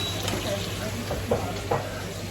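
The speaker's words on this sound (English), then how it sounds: "Let me flip these sausages over." Sausages sizzle in a frying pan, giving a close, steady frying hiss with a few scraping clicks from turning them, and a voice speaks over the cooking.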